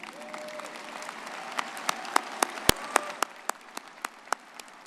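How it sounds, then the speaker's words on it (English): Audience applause at a commencement ceremony: scattered claps from a crowd in a large hall, fairly distant, thinning out toward the end into a few sharp separate claps. "Give them a big round of applause"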